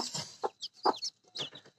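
A hen and newly hatched chicks on a small farm, soft clucks and high thin peeps in short separate bursts, close and fairly quiet with pauses between calls.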